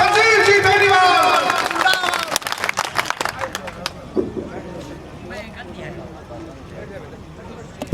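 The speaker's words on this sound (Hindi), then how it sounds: "जोरदार तालियों के साथ" An audience at a Holi gathering and honouring ceremony for public representatives claps loudly under an amplified voice. The applause thins and fades over several seconds into crowd murmur.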